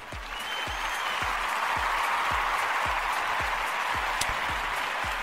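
Sustained audience applause fills the clip, a dense steady wash of many clapping hands with no pauses, loud and close, while a faint rhythmic low thump repeats underneath.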